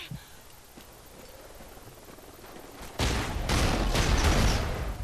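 Gunfire in Call of Duty: Ghosts multiplayer: quiet ambience at first, then from about three seconds a loud, dense burst of rapid shots and impacts.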